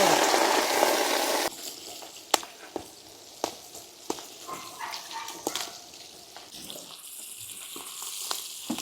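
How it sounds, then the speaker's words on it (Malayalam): Clams for a pickle dropped into boiling oil, starting with a loud, dense hiss of frying that drops off to a quieter sizzle with scattered sharp clicks and taps of stirring, close up and with no voices. "നമ്മൾ കക്ക തിളച്ച എണ്ണയിലേക്ക് നമ്മൾ കുറേശ്ശെ ആയിട്ട്"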